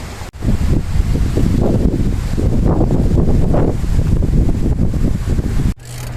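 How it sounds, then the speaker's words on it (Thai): Strong outdoor wind buffets the microphone with a continuous, loud roar and gusty rumble, and it drops off sharply near the end. "เดี๋ยวลมพัดกระหน่ำ"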